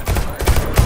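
Gunfire bursts from the video game Deceit 2, a dense, rapid spray of shots with heavy low thumps, loud and close throughout a brief moment.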